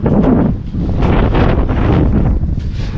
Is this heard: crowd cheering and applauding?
no